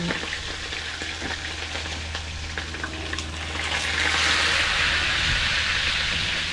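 Food sizzles and crackles in hot oil, a steady frying hiss that grows louder and fuller partway through, with occasional clinks.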